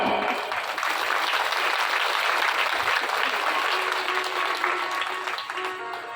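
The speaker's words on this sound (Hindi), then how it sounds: "जोरदार तालियां बजा के हमारे भैया को आशीर्वाद दें" Audience applause at a Shrimad Bhagwat Katha religious gathering, dense steady clapping from a large crowd that holds loud for about six seconds and eases slightly near the end.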